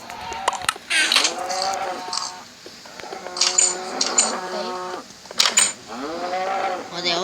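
Several cows moo in the video game Minecraft, repeated low drawn-out calls overlapping one another, loud and close, with brief clicks between them.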